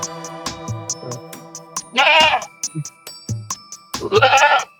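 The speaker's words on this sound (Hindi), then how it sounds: "ये बकरा रख लें फिर, ठीक है?" A male goat bleats loudly and close by, two long wavering cries separated by short pauses, with clicks and tonal background sounds between them and no speech.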